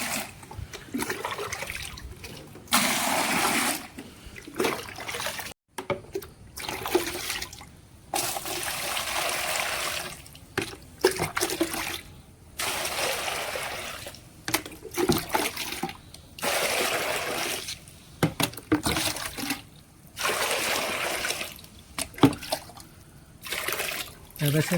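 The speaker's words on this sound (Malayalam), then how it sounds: "ഇനി നമുക്ക് വെള്ളം ഒഴിക്കാം." Conditioned water is poured from buckets into a betta fish breeding tank, coming in repeated loud gushing bursts separated by short pauses.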